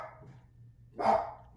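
A pet dog barks in a short burst at a passing mail truck, a single loud yelp-like bark rising out of a quiet kitchen background with a low hum.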